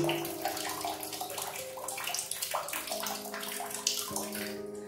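A slowed, thin stream of water trickles from a tap through a Pureit filter, a steady close splashing flow that runs alone throughout.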